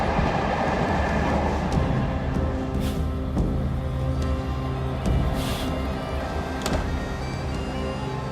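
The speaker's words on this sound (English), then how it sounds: "waking the next morning at first light as the train rolls into the calm of a Scottish station" An overnight sleeper train rolls steadily into a Scottish station at first light, a continuous low rumble with faint rhythmic clicks and rattles of the carriages, no voices.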